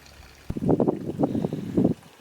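Water draining from camper plumbing during winterizing, a close, uneven gurgling and splashing trickle in irregular bursts over a faint background hiss.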